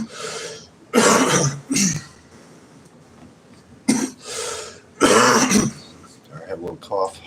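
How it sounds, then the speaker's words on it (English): Several short, harsh coughs in bursts, close and fairly loud, separated by quiet pauses, with a few softer throat sounds near the end. "I have a little cough."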